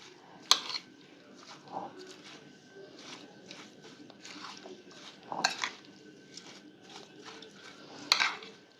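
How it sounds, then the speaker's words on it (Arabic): A metal spoon stirs sugar into a glass of milk, clinking against the glass in a string of sharp taps and scrapes, with a few louder knocks near the start, middle and end. "هبدأ بقى اقلب كده السكر."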